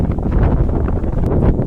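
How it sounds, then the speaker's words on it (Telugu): Strong wind buffets the top of the Ugra Stambham rock pillar on a trek, a loud, continuous rumbling gust that pounds the microphone with no voices over it. "ఇక్కడ నుంచి భయంకరమైన గాలి పెడతా ఉంది పైకి."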